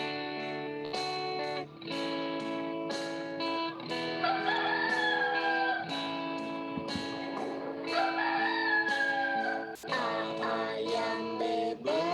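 Rooster crowing inside an animal song, the bird calls layered over sustained musical tones and rhythmic beats, fairly steady and moderately loud throughout, with no speech.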